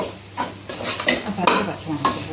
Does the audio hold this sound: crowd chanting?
no